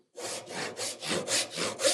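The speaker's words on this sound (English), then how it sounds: "It doesn't matter that I get fully half the joint sawn here." A hand saw cuts a woodworking joint in seven even back-and-forth strokes, each a clear rasping pulse, close and steady with no talk.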